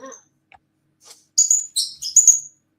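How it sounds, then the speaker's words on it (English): Several bright, high chirps from a small bird in quick bursts, clear and close, with brief quiet gaps between calls. "He makes a lot of noise for such a tiny little bird."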